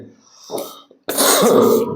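After a short murmur and pause, one harsh, throaty cough bursts out, close and fairly loud.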